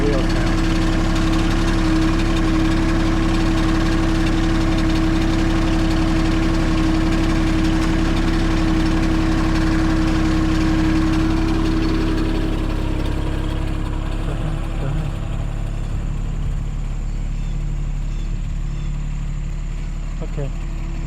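John Deere tractor engine droning loud and steady at close range while pulling down a dead 40-foot birch tree, its tone shifting slightly partway through, with voices talking over it.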